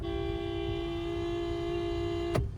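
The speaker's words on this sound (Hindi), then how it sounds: "हॉर्न हमेशा ऐसे बजाना है" A long, steady car horn blast held for over two seconds, loud and close, ending abruptly with a brief thump.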